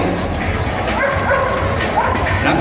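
Seven-year-old Labrador barking amid a dock dog high-jump competition, excited yips and barks mixed into a noisy crowd and announcer talk, with the dog fairly close.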